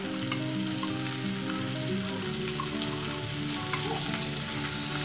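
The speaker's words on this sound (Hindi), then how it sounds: "गोल्डन ब्राउन होने तक इस प्याज को भून लूंगी।" Finely chopped onion fries in melted butter in a pan while making dal makhani, giving a steady, close, crackling sizzle throughout with no talking.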